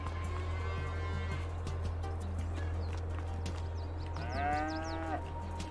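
Cattle in the Farming Simulator 22 video game moo in a drawn-out, low call, with another moo rising near the end over a steady background hum; a faint voice is briefly heard.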